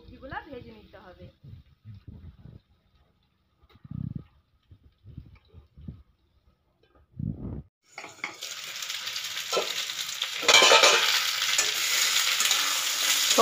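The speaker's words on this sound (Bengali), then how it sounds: "গ্যাস কমিয়ে কমিয়ে ঢাকা দিয়ে দিয়ে ভালো করে সবজিগুলা ভেজে নিতে হবে" Brinjal and mixed vegetables fry in a covered pan over lowered gas, first with a few scattered kitchen knocks and a spoken voice, then a steady loud sizzle that swells and continues to the end.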